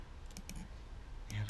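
Computer keyboard keys pressed for a Ctrl Alt Z shortcut during Photoshop CS5 editing, heard as a few sharp, close clicks, a couple near the start and a quick pair near the end over faint background hiss.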